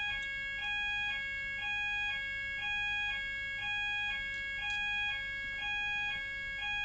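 An electronic alarm sounds steadily throughout, repeating a bright two-tone pattern in a regular rhythm at moderate, even loudness with no talking.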